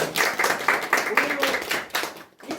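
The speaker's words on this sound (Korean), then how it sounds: "박수" A small group claps briefly in a short burst of applause while a voice keeps talking over it.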